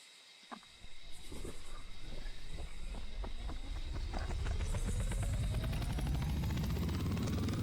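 Helicopter rotors spinning up in the video game BRM5, a loud whirring that starts after a brief pause and speeds into a rising, steady beating drone, close and continuous.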